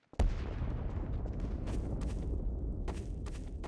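Gunfire in a video game starts with a sharp shot, then a dense, continuous rattle of distant shots and booms layered together, with several louder cracks standing out along the way.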